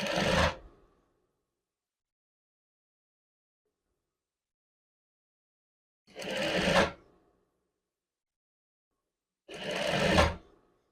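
Three separate bursts of a sewing machine stitching a seam on a men's chef jacket, with long silent gaps between them; each run is short, close and fairly loud, with no talking.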